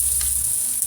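Ginger hisses in hot oil in a pan, making a steady, close, bright sizzle that runs throughout one short moment with no talking.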